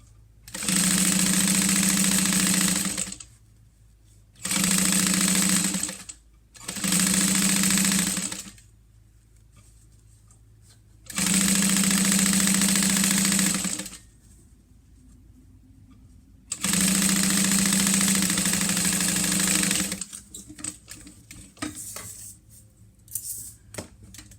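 Sewing machine runs in loud, steady bursts of stitching, five separate runs of a few seconds each with quiet pauses between, ending in faint clicks and handling noises once the bobbin thread is used up.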